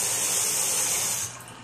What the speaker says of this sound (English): So then you're going to turn on your cold water